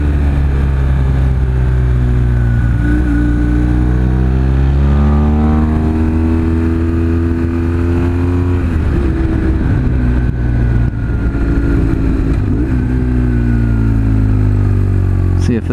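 A BMW R1150 motorcycle rides along smooth paved road on the Mid Atlantic Backcountry Discovery Route, its engine droning loud and steady with shifting pitch as it accelerates and eases off, mixed with wind rush.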